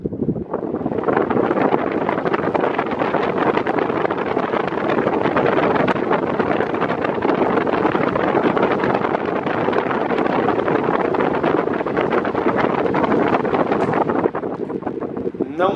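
An electric fan, its oscillation pin stuck so it stays pointed in place, runs with a steady, loud whooshing airflow that holds unbroken from start to finish.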